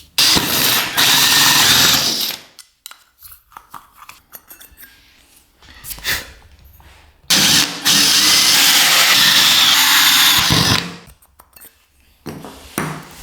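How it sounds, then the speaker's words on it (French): A hole saw bores socket holes through a kitchen backsplash panel in two loud, sustained bursts of grinding and whining, each lasting a few seconds, separated by quieter handling noises and ending with a short final burst. "Et perce avec une scie cloche."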